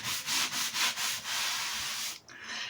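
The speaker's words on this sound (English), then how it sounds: "Instead of sanding, do some wiping." Soapy sponge wiped back and forth over a surface as a dust-free alternative to sanding: close, steady rubbing strokes in a rhythmic series, then one long continuous swipe, a brief pause and a final stroke.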